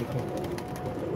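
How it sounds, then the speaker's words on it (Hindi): Pigeons coo softly and continuously over a dense, steady bed of low murmuring bird sounds, close by, with no talking. "ये भी सारे एक्टिव हैं कबूतर माशाल्लाह"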